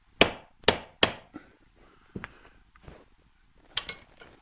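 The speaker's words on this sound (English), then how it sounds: "I generally use a socket, and I can tap it in with a hammer." Three sharp metallic taps from a hammer on a socket in quick succession while rebuilding a Titan paint spray gun, then a few softer knocks and clinks spaced apart, close and fairly loud.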